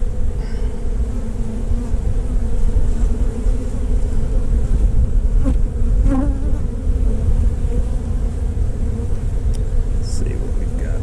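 Honey bees in an opened beehive, 22 days after a cutout, hum loudly and continuously close by, a dense steady drone with a few bees passing nearer, and no one speaks.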